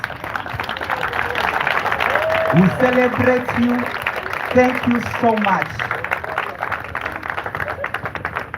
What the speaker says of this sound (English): We should stand up and give them a round of applause.